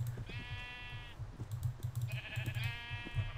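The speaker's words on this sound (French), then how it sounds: "Il y a des moutons!" Minecraft sheep bleating twice, each call a drawn-out nasal baa separated by a short gap, set against a low rumbling game background with no voices.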